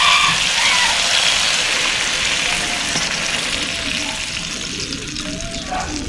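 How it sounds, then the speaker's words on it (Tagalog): Water pours steadily into a pot with a broad rushing hiss that gradually thins out toward the end. "Ito natin tubig para ating palambutin."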